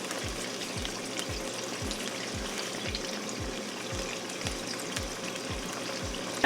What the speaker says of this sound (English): we're going to stir until it's all mixed